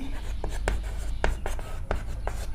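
Chalk or marker tapping and scratching on a classroom board during a class 10 math lesson, a series of short strokes in irregular rhythm, close and fairly loud over a low room rumble, with no talking.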